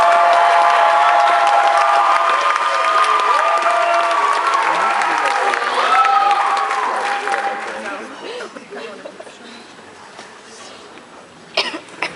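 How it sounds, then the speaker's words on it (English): Audience at a novice finals event applauds and cheers the players, with scattered coughs; the clapping is loud at first, then thins out and fades to a few claps and murmurs near the end. "So I'd like to have a round of applause for the players."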